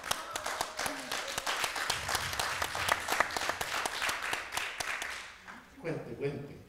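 A film showcase audience claps in sustained, fairly close applause for about five seconds. The clapping then stops abruptly, and a voice begins speaking at the end.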